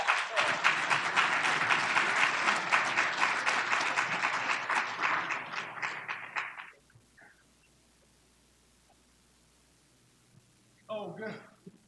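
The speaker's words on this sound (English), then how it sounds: "give him another hand clap" Audience at a hemp workshop applauding, a loud sustained round of clapping that tapers and stops abruptly after several seconds, followed by quiet and then a brief voice.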